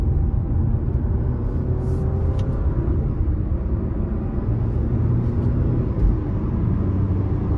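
2023 Dodge Hornet GT AWD with the 2.0-liter turbo, accelerating in manual mode onto an interstate, heard from inside as a steady low engine and road rumble with subtle rising tones.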